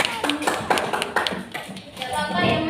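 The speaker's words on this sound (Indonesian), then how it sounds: "Tepuk tangan." A classroom of students claps hands together, several loose bursts of clapping and tapping close by, with voices talking over parts of it.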